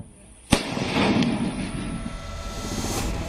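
A firecracker set off in a village to scare away man-eating wolves gives one sharp, loud bang, followed by a fainter crackle and a lingering rumble and hiss that slowly fade.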